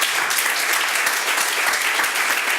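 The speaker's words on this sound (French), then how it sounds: "Merci beaucoup, on vous applaudit." An audience at a conference on collective bargaining and company agreements claps in a sustained, even roar of applause that is dense and steady, with no talk over it.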